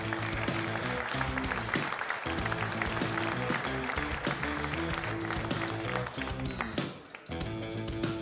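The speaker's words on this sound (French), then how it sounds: "Applaudissez-le." Audience applause at a French motorcycling federation press conference honouring an e-bike enduro champion, steady clapping heard over loud background music for the whole stretch.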